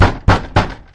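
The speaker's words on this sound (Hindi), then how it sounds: "जोर जोर से उस घर का दरवाजा खटखटाने लगा" Three loud, heavy knocks pound on a house door in quick succession, each thud ringing briefly before the next, with no voices.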